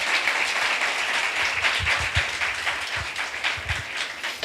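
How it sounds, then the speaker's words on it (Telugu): A church congregation claps in a steady, dense wash during a pastor's sermon, continuous moderately loud applause with a few stronger claps standing out, and no talking over it. "చప్పట్లు కొడదాం"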